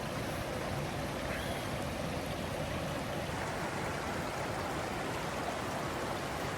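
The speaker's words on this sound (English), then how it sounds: "We see that the white rubbers of the water just flowing over." River water rushes over high stones in a steady, dense broadband roar, constant and unbroken throughout.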